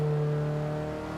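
A racing car accelerates through the Hotzenbach section of the Nürburgring, its engine a steady loud drone with strong tonal harmonics held close and alone for about a second.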